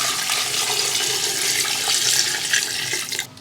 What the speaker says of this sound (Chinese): 加适量水